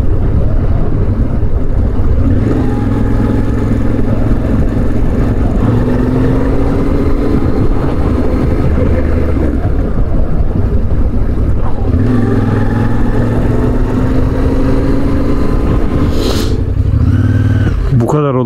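A safari vehicle's engine runs steadily and close, a continuous loud drone with a low rumble throughout, while voices talk over it.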